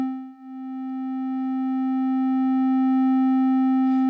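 Steady synth tone from the Wavetable instrument, its volume dipping briefly and then swelling back as the amp envelope attack time is raised, sustained and alone without speech.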